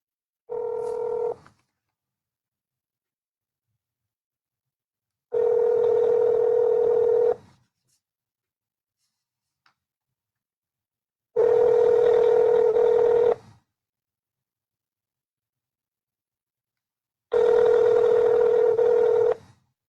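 Four separate telephone keypad tones, each held for about two seconds with gaps between, ring out alone on a quiet line while someone places a call to a TV station's crime and justice line.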